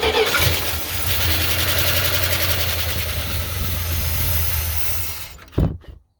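A 1978 Plymouth Trail Duster engine catching and running at a steady, loud, rough idle close by, ending in a brief bump before cutting off.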